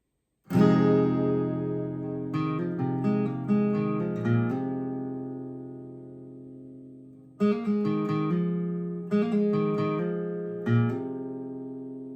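A solo acoustic guitar plays a short lead melody, plucked notes ringing over sustained chords, clear and close with no voice.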